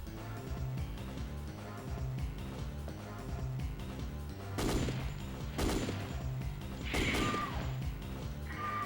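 A big gun in Dino Crisis 2 lets off several heavy, booming shots, three of them especially loud, spaced a second or so apart over steady game music.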